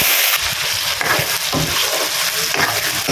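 Loud, close sizzling as spices hit hot oil in a pan for a chicken curry, a dense crackling hiss with stirring scrapes, no voices.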